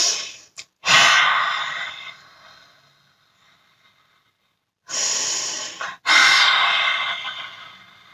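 Two slow breath cycles in a relaxed breathing exercise, each a short sharp inhale followed by a long, loud exhale that fades out, close to the microphone with a quiet pause between them.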